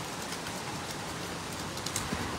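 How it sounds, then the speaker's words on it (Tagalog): Heavy rain beside a clear river near a dam pours down in a dense, steady hiss that continues without pause and without any voices. "Napakaulan mga idol."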